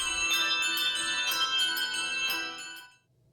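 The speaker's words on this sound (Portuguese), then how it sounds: "uma orquestra de sinos" A handbell ensemble rings out a bright, sustained chord of many overlapping bells that lingers, then fades out near the end.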